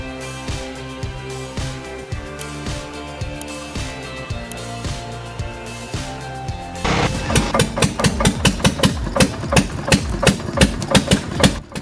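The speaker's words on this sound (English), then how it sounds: "Every rotation of that flywheel-driven blade cuts cleanly through wood" A homemade flywheel-driven log splitter cuts firewood with a rhythmic mechanical thumping over a running engine, the blade strikes coming steadily and then quickening into loud, rapid repeated chops.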